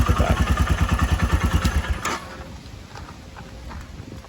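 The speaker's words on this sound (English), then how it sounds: "then I'll go ahead and actually crank the bike" A Royal Enfield Himalayan BS6 motorcycle engine running close by with a fast, even thumping beat for about two seconds, then cutting off abruptly and leaving a quiet background.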